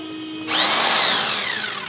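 INGCO RGH6528 650W rotary hammer drill switches on after a faint hum, a loud steady whine starting abruptly, rising then slowly easing in pitch, alone at close range.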